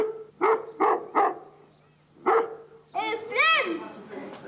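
Several short barks from a dog, a quick group of three, a pause, then another, followed by a whining, yelping vocalization, fairly close and clear.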